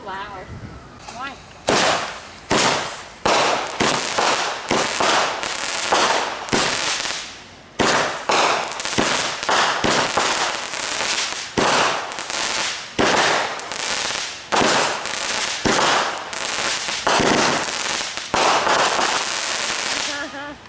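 Fourth of July fireworks and firecrackers burst in rapid, loud, sharp bangs, a dense series of irregular cracks and pops over about twenty seconds, with people's voices faintly present between blasts.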